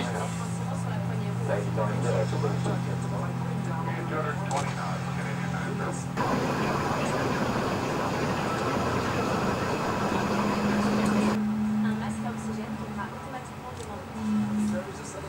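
An Airbus A32NX engine number 2 spools up in a flight simulator, a steady low whine and rumble that shifts into a broader roar midway, with talk over parts of it.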